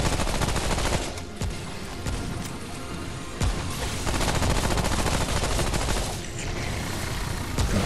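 Dense gunfire in the video game Remnant: From the Ashes, a steady, loud barrage of rapid shots and blasts running nearly unbroken throughout, with a heavy low rumble beneath.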